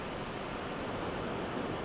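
Wind blowing across the airfield in the X-Plane 12 flight simulator, a steady, faint broadband rush like distant surf with no breaks or gusts, heard alone.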